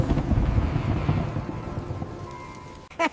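Thunderstorm with rolling thunder and rain: a low rumble swells loudly at first, then fades beneath a steady hiss of rain, and a short sharp burst closes it.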